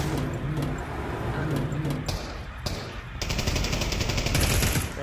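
Gunfire rattles in the virtual reality game Pavlov VR during a jailbreak, with dense, continuous automatic bursts that grow louder and heavier toward the end.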